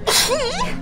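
A single sharp sneeze, close and loud, with a breathy burst and a short voiced tail.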